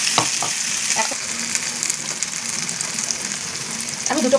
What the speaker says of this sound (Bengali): সিমে করে করে এটা একটু মিডিয়াম লো হিটে এটাকে ভাজতে হবে।